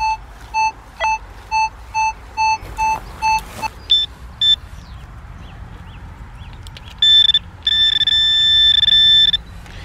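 A metal detector giving repeated short beeping tones in a rapid pulsing run, followed later by a couple of longer sustained tones, loud and close outdoors with no talking.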